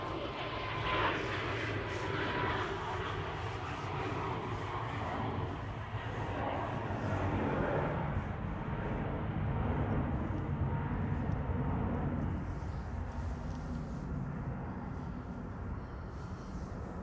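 An airliner departs Manchester Airport on a flight to Malta, its jet engines producing a broad, steady roar that swells and slowly fades at moderate distance.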